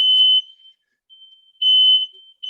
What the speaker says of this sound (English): We got a fire alarm going on here.